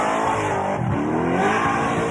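A small-block Chevrolet V8 stroker motor in a little Mazda revs hard at Summernats, a loud, steady, close engine roar with a brief dip partway through and no talk over it.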